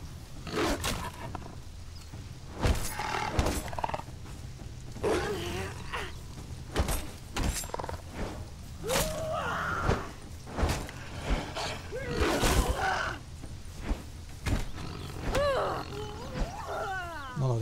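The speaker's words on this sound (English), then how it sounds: "Oh, I hear a wolf. I hear a wolf." Wolf attacking in the survival game Conan Exiles, with snarls, growls and combat impacts in bursts over a dense game soundscape; fairly loud and close, with a voice talking at times over the fight.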